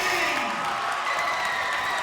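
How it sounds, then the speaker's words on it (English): San Marin fans give an ovation at a boys' varsity high school basketball game, a steady wash of crowd applause with scattered cheers in a gym, continuous throughout with some voices mixed in. "Garasi's going to get a very nice ovation from the San Marin fans."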